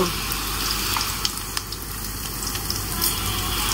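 Onions and green chillies frying in cooking oil for a vegetable dish, a steady broadband sizzle with small pops and crackles running the whole time, close and moderately loud, with no talking over it.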